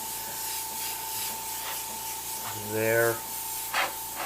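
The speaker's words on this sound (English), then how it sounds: "I'm just going to spray it all on the edge and then come a little bit out" An airbrush sprays paint along an edge in a steady hiss, with a brief louder tonal burst partway through and someone talking quietly over it.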